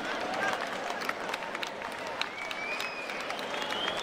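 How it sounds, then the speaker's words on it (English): A fight-night crowd in Cardiff applauds two bare-knuckle fighters after their bout, a fairly faint, continuous wash of clapping with cheering and whistles over the arena hubbub. "another round of applause for these two bare knuckle warriors tonight."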